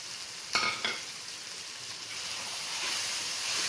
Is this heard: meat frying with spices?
yes